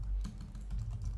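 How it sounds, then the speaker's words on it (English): Rapid typing on a computer keyboard, a steady run of close, light key clicks while a value is entered into a storyboard ID field, no talking. "we're going to type in"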